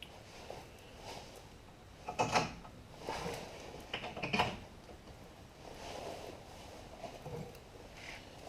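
Brake caliper slide pins being fitted on a 1970 Chevy Camaro: a few quiet metallic clicks and scrapes, with two sharper knocks standing out against a near-silent garage background.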